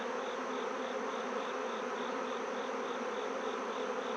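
Honeybees pile on frames inside an open hive, giving a dense, continuous buzzing drone that stays loud and even throughout, with no voices.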